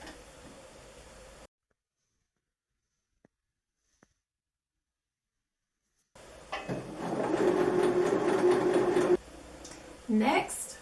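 A sewing machine hems the short sleeves of a small Blythe doll dress, whirring in a steady run of a few seconds, then a brief second burst after a pause.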